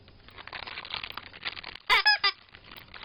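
A jack-o'-lantern toy horn from a Halloween fun set lets out three short, shrill squeaking honks in quick succession, loud and close over faint background noise.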